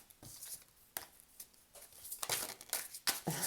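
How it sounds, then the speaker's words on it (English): A tarot card deck is shuffled by hand, giving quiet, uneven bursts of riffling and crinkling card noise, close up with short pauses between. "I just want to shuffle for now."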